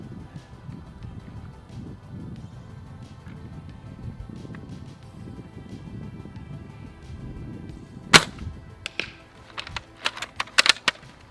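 Quiet room tone, then a single sharp snap from a Novritsch SSG96 airsoft sniper rifle near the end, followed by a few small clicks and taps as the rifle is handled.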